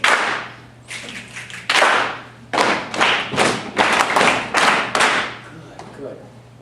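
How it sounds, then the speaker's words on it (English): Group body percussion with rhythmic hand claps and slaps on legs, several people performing in unison, loud and close, in repeated bursts with a low steady hum beneath. "Back off some of the body percussion. The claps are a little aggressive, as are the leg."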